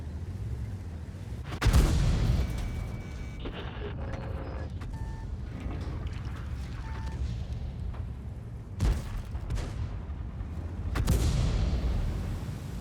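Artillery shells strike around a Chrysler K tank in World of Tanks, a few heavy booms and blasts spread out over steady engine rumble, the loudest impacts sharp and close.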